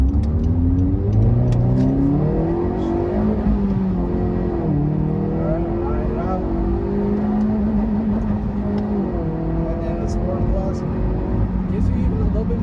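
A Honda CR-Z HPD Edition engine revs up steadily as it accelerates from first gear in sport mode, pitch climbing and dropping with gear changes, loud and close throughout.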